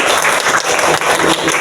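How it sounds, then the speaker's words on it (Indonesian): A seventh-grade school class claps enthusiastically in a classroom, a dense burst of applause that holds steady for a couple of seconds. "Tepuk tangan buat kelas 7I."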